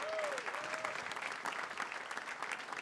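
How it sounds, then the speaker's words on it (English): A live-radio crowd of Titans fans bursts into steady applause, dense clapping filling the room at moderate volume with a faint whistle near the start and no talk over it. "y'all give yourself a round of applause."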